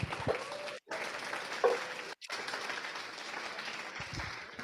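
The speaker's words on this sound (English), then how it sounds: "Everybody give him a round of applause." A small audience at a community-building event applauds a guest, a thin, uneven patter of clapping broken by two brief dropouts, fairly faint with occasional louder knocks near the end.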